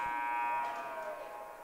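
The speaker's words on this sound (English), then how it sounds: "that'll do it as the buzzer sounds." A loud, steady electronic buzzer marks the end of a period at a college ice hockey game between Denison and Elon, sounding continuously at one pitch and fading slightly toward the end.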